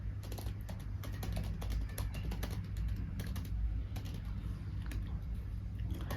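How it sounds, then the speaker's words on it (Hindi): Rapid keystrokes clatter on a computer keyboard while code is written in VS Code, an even, continuous run of close clicks over a low steady hum with no talking. "तो अपन एक मार्कडाउन लिख लेते हैं सबसे पहले।"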